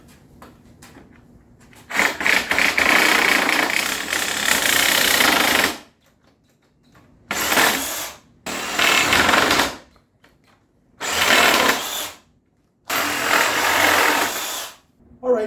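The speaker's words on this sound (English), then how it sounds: "we're going to take the sawzall. We're just going to simply cut this board out and this bottom board out" A Sawzall reciprocating saw cuts through wooden boards for a storage bin, loud and close, in five buzzing bursts of varying length separated by brief silences.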